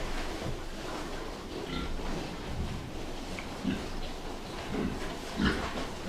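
Pigs on a farm grunt and oink in short, scattered bursts over a steady rainy-sounding background hiss, fairly faint and somewhat distant.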